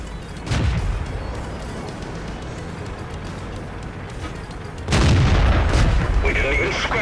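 Comet tank cannon shots in a video game: a heavy boom near the start and a second louder blast around five seconds, over a constant engine rumble and battle noise.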